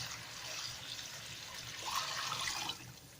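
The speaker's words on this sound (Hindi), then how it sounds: "और अब हम इसमें डालेंगे तकरीबन 8 कप पानी।" About eight cups of water pour steadily into a pot of nihari, a soft continuous splashing and trickle that swells briefly near the end before easing off.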